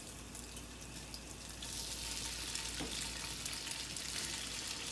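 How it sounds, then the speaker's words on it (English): Drained gnocchi hitting a pan of garlic herb butter and olive oil, a steady close sizzle and crackle that swells louder partway through, with no voices. "now we're going to add in our gnocchi that has been drained"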